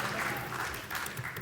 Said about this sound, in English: Let's hear a golf clap for create class.